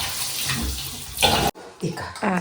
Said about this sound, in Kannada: ಈಗ ನೆನೆಸಿಡ್ಬೇಕು ಅದನ್ನ ಚೆನ್ನಾಗಿ ತೊಳೆದು.